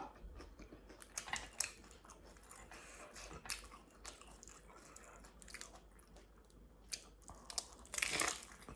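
Close crunching bites into crispy Thai fried spring rolls come in irregular crackly bursts with chewing between them, louder near the end. There is no talk.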